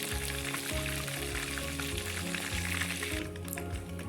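Kababs fry in oil with a loud, close, constant sizzle and crackle, while a steady low hum with broken, pulsing tones runs underneath; the sizzle eases slightly near the end and no one speaks.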